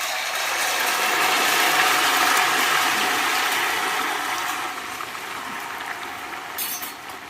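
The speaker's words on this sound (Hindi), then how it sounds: "तेल अब अच्छे से गरम हो चुका है और थोड़े थोड़े नूडल्स हम इसमें डालते जाएंगे" Noodles dropped a few at a time into hot oil for a restaurant-style Chinese bhel, giving a steady broadband sizzle and crackle that stays loud and even, easing slightly toward the end.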